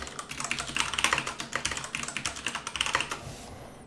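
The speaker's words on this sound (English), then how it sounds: "You really have a loud keyboard, Lemon." A loud computer keyboard clatters in a rapid, uneven run of keystrokes during a coding livestream, close-miked and steady for several seconds before stopping abruptly, with no talk over it.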